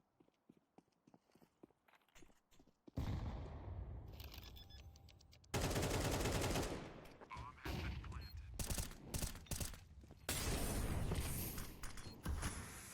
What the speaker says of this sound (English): Michael with the Mac 10 just spraying down sight, able to get the kill